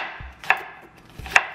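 Two crisp knife strokes through onion on a cutting board, each a dull thud followed by a sharp click of the blade, close and alone in a quiet room.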